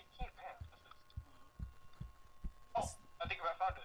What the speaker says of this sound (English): The heartbeat, the shaking